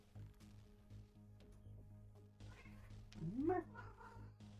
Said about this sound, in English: Oh, my cat is crying outside.